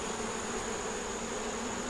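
Honeybees crowd a loaded brood frame lifted from a nuc box, giving a steady, close, continuous buzz with an even hum throughout and no talk.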